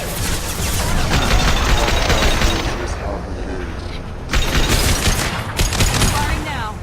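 Sustained gunfire in the sci-fi shooter Mass Effect 2, dense bursts of automatic fire and booms that ease briefly and then resume loud and close, with battle noise underneath.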